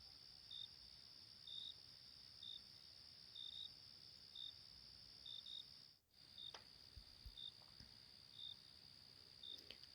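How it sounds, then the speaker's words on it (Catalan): A single cricket chirps in short, evenly spaced trills against a quiet night background, faint and distant, steady throughout with one brief dip midway and no voices. "el cant suau d'un grill a la distància"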